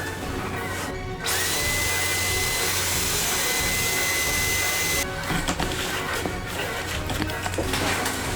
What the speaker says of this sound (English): Time to vacuum them out.